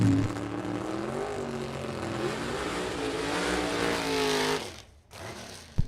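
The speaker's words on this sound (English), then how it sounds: "Bob Romano and Sean Brady burning out some issues in the burnout box right now for Sean Brady." A drag racing car does a burnout in the burnout box at a drag strip, its engine roaring steadily with wavering revs for several seconds, then cutting off abruptly before a brief return.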